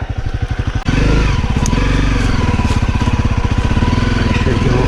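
A Honda CRF250L trail bike rides off-road, its single-cylinder engine loud and close, pulsing rapidly at idle before revving up into a sustained, throbbing drone.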